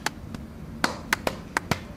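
Sharp hand claps struck one by one in a slow, uneven rhythm, six or so spaced across a couple of seconds, close and moderately loud with a faint echo and no voices.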